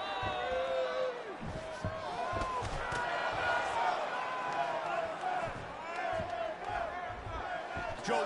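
An arena crowd roars and cheers throughout a UFC fight in the EA Sports UFC 2 video game, a dense, swelling wall of voices with sharp impact thuds and whistles rising and falling over several seconds.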